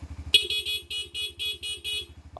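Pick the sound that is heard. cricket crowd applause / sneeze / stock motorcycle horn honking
stock motorcycle horn honking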